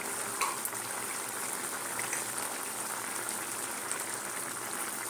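Prawn and banana flower curry boils in a pot, a steady close bubbling and hissing simmer that runs evenly throughout, with no talk.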